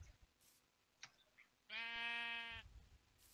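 A single Minecraft sheep bleat, a clear harmonic bleat lasting about a second, with faint game clicks and ambient noise around it.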